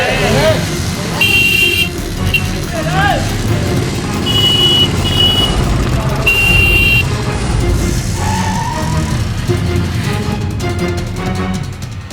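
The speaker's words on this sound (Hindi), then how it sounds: "इतना देर से हॉर्न मारे, सुनाई नहीं दे रहा तुमको?" A car horn honks in short bursts on a busy road amid traffic rumble, beeping vehicles and loud speech from people nearby.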